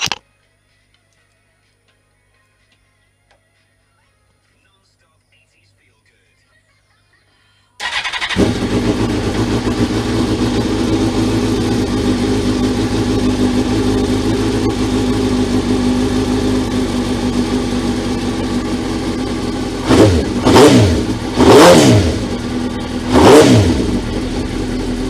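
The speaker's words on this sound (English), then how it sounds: "You keep an eye on that and I'll try and start the bike." Suzuki GSXR 1000 streetfighter motorcycle, after about eight seconds of silence, starts suddenly into a steady loud idle, then gets three sharp throttle revs near the end.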